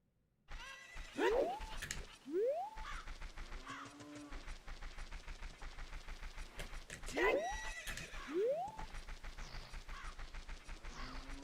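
Horse whinnies and clip-clopping hooves in The Legend of Zelda: Ocarina of Time, two loud rising neighs repeating about six seconds apart over a steady rhythmic hoof patter, with no speech.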